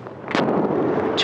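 Staged cannon fire from a movie battle scene aboard the HMS Bounty replica near Beaufort, heard as two brief dull booms over wind-buffeted background noise.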